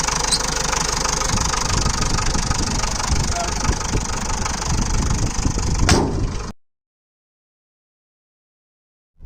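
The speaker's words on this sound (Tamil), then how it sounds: "ஸோ பட் இன்ஜினோட சவுண்ட் ரொம்ப ஹெவியாக இருக்குது உள்ளுங்க." The 1500 cc diesel engine of a Hindustan Ambassador runs with a loud, heavy, rumbling clatter close by for several seconds. It then cuts out abruptly into silence.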